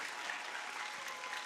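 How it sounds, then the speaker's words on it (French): Short burst of audience applause for the winning book authors at the Prix Chronos award ceremony, a dense, steady patter of many hands clapping together. "on peut les applaudir très fort, les auteurs des livres, évidemment"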